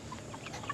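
Chickens on a historic homestead farm give a few soft, low clucks, faint and close, with nothing else over them.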